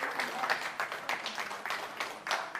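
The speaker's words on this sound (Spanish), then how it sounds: "dele un aplauso fuerte al Señor" A church congregation applauds with uneven bursts of clapping that swell and dip in waves, moderately distant, a voice faintly mixed in among the crowd.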